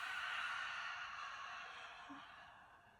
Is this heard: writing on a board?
no